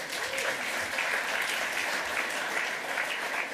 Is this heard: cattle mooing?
no